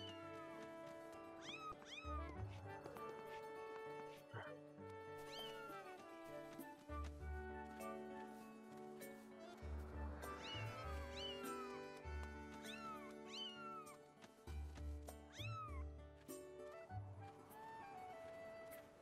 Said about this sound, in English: Get away, you stupid cat!